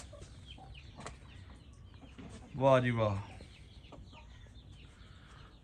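A rooster crows once, loud and close, its harmonic call rising and falling over about a second, with people talking before and after.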